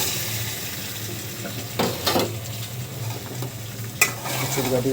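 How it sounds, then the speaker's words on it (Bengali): Taro (kochu) and potato being stirred and fried in a pan, a low steady sizzle broken by a few sharp scraping stirs and a clink, no talking. "একটু ভালো করে নাড়াচাড়া করে কষিয়ে নেব।"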